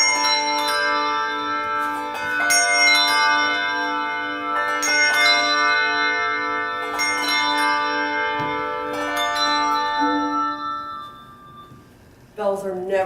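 A handbell choir rings a slow sequence of bright, sustained tones, chords overlapping and decaying with a shimmering ring, then a quieter stretch and a new cluster of bells at the end.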